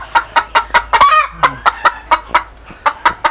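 Native hens clucking rapidly at close range, a steady run of short, evenly spaced clucks with a brief drawn-out squawk in the middle, no talking.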